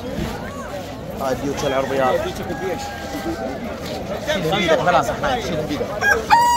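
Rooster crowing amid a busy Baghdad poultry and bird market, with clucking fowl and constant crowd chatter; a voice talks over the birds throughout.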